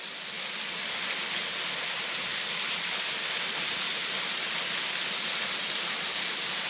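Amos Falls waterfall pouring in a steady, dense hiss and roar, close by and continuous with no other sounds.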